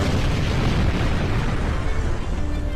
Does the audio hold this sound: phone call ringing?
no